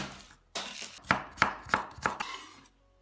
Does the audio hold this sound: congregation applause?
no